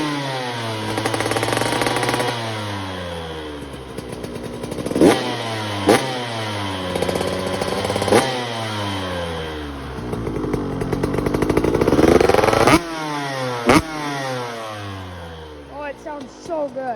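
Close, loud revving from a Suzuki SX125 2022 dirt bike fitted with a Pro Circuit R304 shorty exhaust: repeated sharp climbs and falls in pitch, with a few quick blips and a long rising rev.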